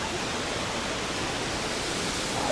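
Waterfall on the Reedy River, a steady broadband roar of rushing water, loud and even throughout with no other sounds standing out.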